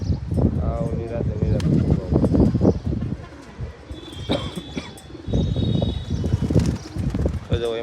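Pigeons in a kept flock coo in soft, throaty, repeated bursts close by, while people talk over and between the calls.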